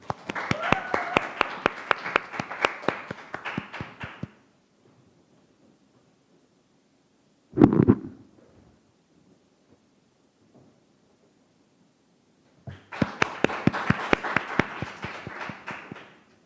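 An audience claps before a participant's speech at a Korean youth speech contest, with a burst of steady applause, a quiet gap with one brief thump, then a second round of applause.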